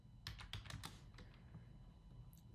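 Fingers type on a computer keyboard, a quick burst of close, crisp key clicks that thins out to a few scattered taps, with no voices.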